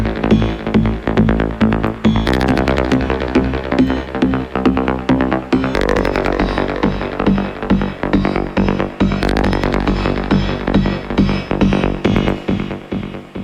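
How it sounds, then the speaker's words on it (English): A synth bass built from two main bass layers plus a third layer with shifted timing, programmed in FL Studio for a trance track, pulses in a steady loud rhythmic groove with dense bright harmonics throughout. "let's play that version of the bass"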